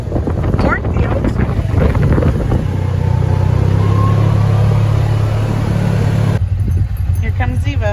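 A Kubota Sidekick utility vehicle drives past a cornfield, with a low engine drone, heavy wind buffeting and rustling, and voices talking over it.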